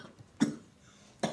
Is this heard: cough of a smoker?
yes